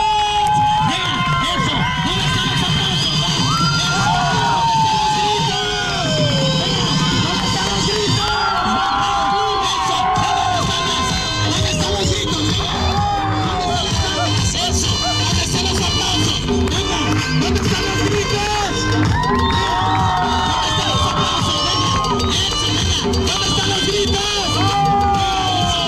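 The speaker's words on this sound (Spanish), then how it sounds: "¿Dónde están los gritos?" A large crowd at a Mexico City restaurant shouts and cheers continuously with loud, dense babble, whoops and scattered high calls over a steady roar.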